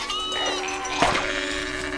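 A sheep in the video game Northern Journey lets out a single short bleat midway, cutting through a steady musical background with sustained tones.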